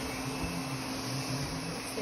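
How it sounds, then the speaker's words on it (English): A Thamtu G11 robot vacuum with 2500Pa suction runs on low pile carpet, giving a steady, close whirring drone with constant broadband hiss and a low motor hum. "This is a low pile carpet. It's pretty robot vacuum friendly."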